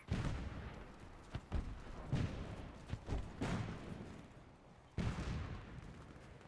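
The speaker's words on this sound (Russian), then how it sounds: "Пулемет противника" Enemy machine gun fire in the video game Warface: several bursts and sharp reports at about 1.5, 2.2, 3.5 and 5 seconds over a steady background din of moderate loudness, with no talk.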